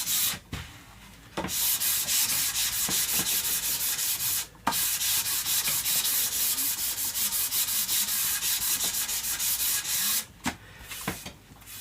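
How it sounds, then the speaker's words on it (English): Sandpaper rubs lightly across the back of a bass guitar body, a steady rasping scrape with brief pauses between passes, close and fairly loud. "I'm just going to lightly sand that back."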